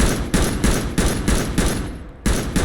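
A modded assault rifle in Fallout 4 fires in semi-auto, loud close shots evenly spaced about every third of a second, eight or so in a row with a brief gap near the end.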